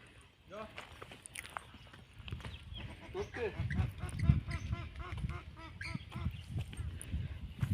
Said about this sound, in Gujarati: જો અવાજ જો પક્ષીઓનો